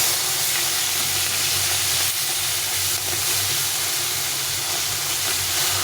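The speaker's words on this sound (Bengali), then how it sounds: "মাছগুলো এক পাশে ভাজা হয়ে গেছে, এগুলো উল্টে পাল্টে দুপাশে করে লাল লাল করে ভেজে নিতে হবে।" Fish fry in a pan in a little oil, giving a dense, continuous loud sizzle and hiss that stays steady throughout without talk.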